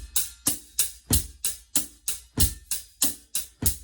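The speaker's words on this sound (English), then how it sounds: "we're all very familiar with adding in the hi-hat, playing eighth notes. So obviously that sounds like this." Drum kit playing a steady groove with eighth-note hi-hat and snare backbeat, about eleven evenly spaced crisp hits over four seconds, close and loud, no talking.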